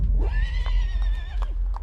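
A horse neighs loudly and up close as a sound effect in a spoken audio drama, one drawn-out whinny with a faint clopping of hooves underneath, and no talking over it.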